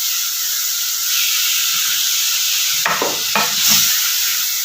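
Chicken mince frying with garlic, onion and ginger makes a loud, steady sizzle and hiss close by, with a couple of brief stirring scrapes near the end and no talk.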